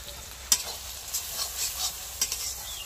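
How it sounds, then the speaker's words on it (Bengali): Goat meat curry with spices being stirred in a pan, a soft, quiet sizzle with a few light scraping knocks of a spoon at irregular intervals. "সব মশলা দিয়েই তো নাড়াচাড়া করছি"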